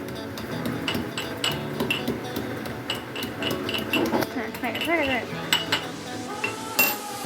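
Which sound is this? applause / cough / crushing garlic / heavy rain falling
crushing garlic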